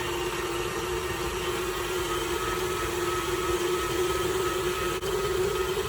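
A KitchenAid stand mixer runs on its high setting, a steady, loud motor whine and broadband whir that holds unchanged for the whole stretch, with no talking over it.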